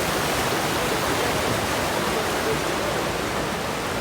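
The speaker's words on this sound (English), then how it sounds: "And the river's flying down this way." A river rushes through a canyon, a dense, constant roar of moving water heard close and loud with no talk over it.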